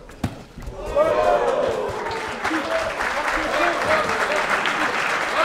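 Applause from one boxer for his opponent during a fight, following an opening thump: a loud burst of crowd clapping and cheering that swells and carries on under a commentator's talk.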